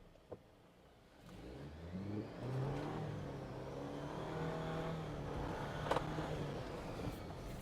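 A Jeep Wrangler engine idles, then revs up in low-range gear and holds a steady labouring drone as it climbs a steep slope, moderately close with no talking.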